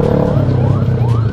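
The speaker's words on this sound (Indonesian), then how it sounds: "Wow, ada mobil ambulan." An ambulance siren wails with a rising and falling tone through dense road traffic on a rainy road, mixed with the rumble of nearby engines and riding noise.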